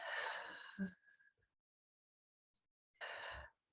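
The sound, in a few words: deep breathing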